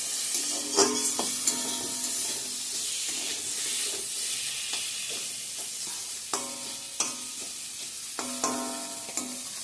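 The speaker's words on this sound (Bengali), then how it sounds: "তো এখন কারকোলটা ভাজা করছি এদিকে" Bitter gourd frying in a home kitchen pan, a steady sizzling hiss with intermittent stirring scrapes and clatter, close and fairly loud with no talking.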